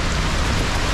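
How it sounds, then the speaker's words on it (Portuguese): Heavy rain pours down in a windy rainstorm, a dense, loud, unbroken roar of drops hitting surfaces up close, with no voices. "Chuvão em temporal, hein, família."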